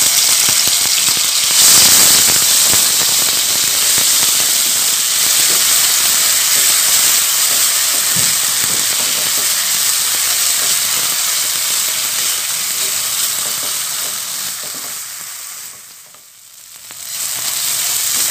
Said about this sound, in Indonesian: Ini minyaknya udah aku panaskan. Langsung aja bumbu yang udah aku haluskan kita masukkan.